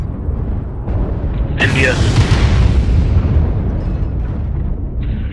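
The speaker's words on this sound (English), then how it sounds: "Airstrike activated." Airstrike explosions in MechWarrior Online roll out as a loud, sustained rumbling blast that swells and fades over several seconds, with a brief voice line heard over it.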